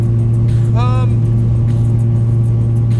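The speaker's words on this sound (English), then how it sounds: "I don't think I'll keep this exhaust, but man, does it sound good." A loud, steady rotary engine exhaust drone from a rotary-swapped Subaru BRZ, with a deep low hum throughout and a brief rising whine partway through.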